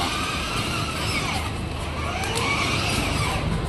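A new car's engine running steadily as it drives up a short ramp toward a showroom, a close, constant hum with light rumbling and no talk.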